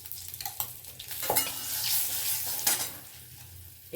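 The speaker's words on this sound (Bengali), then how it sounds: "জাস্ট একটু নাড়াচাড়া করে নেব" Fenugreek greens fry in hot oil with nigella seeds and turmeric, hissing steadily while a spatula scrapes and stirs through them in a few close, uneven strokes.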